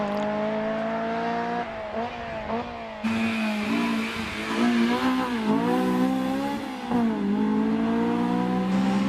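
A Caterham 7 Road Sport with a 1.8 litre engine, number 182, pulls away at a hillclimb, its engine note rising and falling through several gear changes as it accelerates, fairly loud and clear with no voices.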